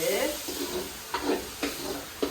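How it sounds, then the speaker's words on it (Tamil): Chicken with turmeric powder being stirred in a pan, with a soft steady sizzle and a few scraping strokes of the spoon heard close by. "மஞ்சள் தூள் கொஞ்சம் போடணும் போட்டுட்டு நல்லா மிக்ஸ் பண்ணுவோம்"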